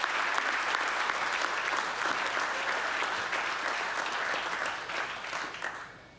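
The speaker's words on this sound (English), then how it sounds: "What about a round of applause for Trust Systems?" Applause from an awards ceremony audience, a dense steady clapping that holds strongly and then thins and fades toward the end.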